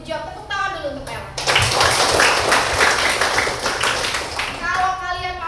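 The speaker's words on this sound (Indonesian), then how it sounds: "Tepuk tangan dulu untuk Bella." A classroom of students applauds for a classmate named Bella, with a burst of dense, lively clapping lasting a few seconds, preceded and followed by a teacher's speaking voice and children's voices.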